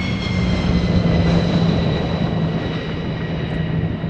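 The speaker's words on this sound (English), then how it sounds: "that was an F-15E Strike Eagle from RAF Lakenheath in England, an Air Force aircraft that's based in the United Kingdom" An F-15E Strike Eagle from RAF Lakenheath flies past at a Red Flag exercise, a steady, broad jet roar that holds throughout with a faint tonal whine, heard from a distance outdoors.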